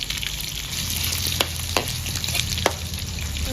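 Pork skin fries in a pan with a steady, fairly loud sizzle, broken by a few sharp pops and spatters over several seconds.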